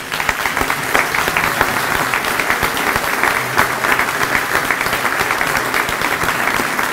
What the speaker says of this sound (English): let's give a hand to all of our awardees